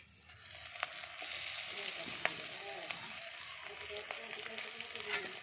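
Ginger and garlic fry with onions in a pan, a steady moderate sizzle with a few clicks of a utensil against the pan.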